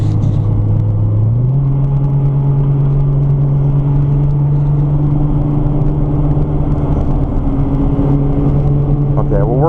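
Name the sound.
Nissan GT-R driving on race track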